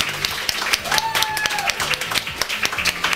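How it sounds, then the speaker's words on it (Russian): Applause from a group on a morning radio show, a moderate patter of clapping with overlapping voices and a brief whistle-like tone. "Аплодисменты Ливану Ламидзе!"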